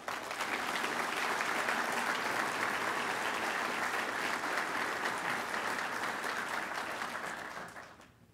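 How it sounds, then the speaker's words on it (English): Audience at an awards luncheon gives a sustained round of applause, a dense steady wash of clapping from a large room that holds evenly for several seconds before fading away. "So our final round of applause"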